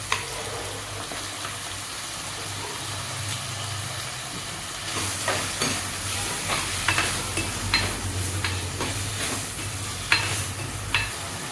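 Steady sizzling of tomatoes frying in a hot pan, with occasional stirring scrapes and soft pops growing busier over time, no talking.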